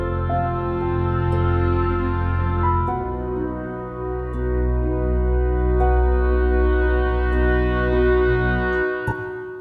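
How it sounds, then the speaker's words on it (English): Sampled orchestral winds play long sustained notes in a dense chord, each swelling up and easing back, with a smooth, continuous bed of tone throughout and no voices. "These are wind arc longs,"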